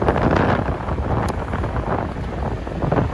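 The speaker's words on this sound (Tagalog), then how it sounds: "so mahangin, no? Di ko alam kung maganda yung audio nito." Strong wind buffets the microphone in a continuous low rumble, gusting unevenly throughout with no talking.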